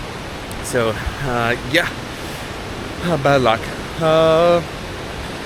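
A waterfall beside a river on a hike near Mellomkollen gives a constant broadband roar in the background, with people talking briefly over it.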